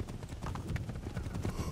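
Horse galloping in Assassin's Creed 3, a fast, steady drumming of hoofbeats that runs through the whole moment at close range, with faint rumbling underneath.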